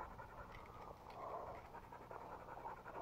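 A hunting dog pants steadily and rhythmically up close, a continuous breathy huffing over quiet outdoor background with no talk.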